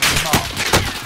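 A gun fires in a video game, giving rapid loud bursts of shots close up that crowd together into a dense crackle over about a second.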